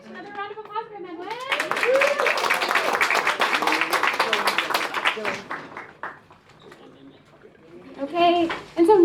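An audience applauds after a food service business pitch, with clapping swelling quickly and holding strong for several seconds before fading, and people talking before and after.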